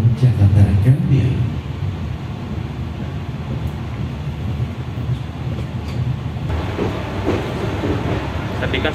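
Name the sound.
Papandayan panoramic class train running on rails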